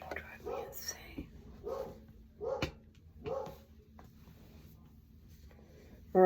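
A dog barks several times at moderate distance while someone sews indoors, the barks spaced irregularly over a low steady background hum, with faint whispery speech nearby.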